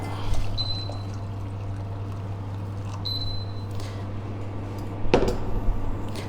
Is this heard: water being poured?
yes